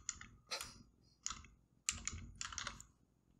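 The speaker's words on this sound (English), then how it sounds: "My nails are so loud with this keyboard." Fingernails clack on a computer keyboard in short bursts of quick, bright taps separated by brief pauses, close and fairly quiet with no talking.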